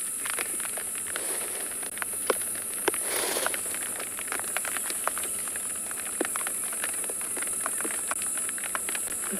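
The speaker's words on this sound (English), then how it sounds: "Loving the sound of the rain at the moment." Steady rain falls on an afternoon safari in South Africa, a dense, even patter with scattered sharper drops hitting nearby surfaces, continuous and fairly loud, with no voices.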